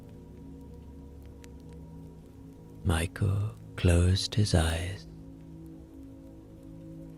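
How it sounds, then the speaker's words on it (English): Steady rain falls outside, a soft continuous hiss beneath a calm voice narrating in the middle of the passage. "listening to the rain outside"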